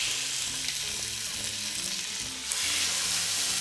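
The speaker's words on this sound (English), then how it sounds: "And now we're going to start browning it in the pan." Chicken browning in a pre-warmed frying pan, a steady bright sizzle running throughout with a slight surge near the end, close and fairly loud, no speech.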